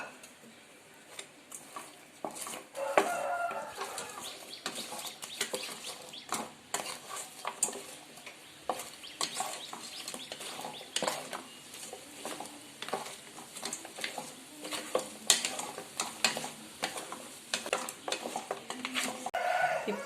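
Fried chicken pieces tossed into a Korean-style sauce in a pan, a steady run of soft scraping stirs and light clinks over a low sizzle, fairly faint and close.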